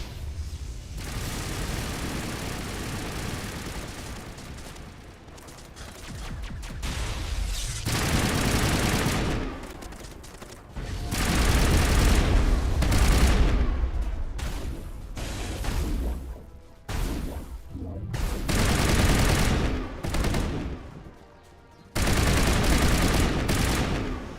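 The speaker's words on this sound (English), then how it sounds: "There must be a way to shut that gun down." Heavy automatic gunfire from a mounted gun in a sci-fi video game, long loud rattling bursts broken by short pauses, close and booming, with explosive crashes between volleys.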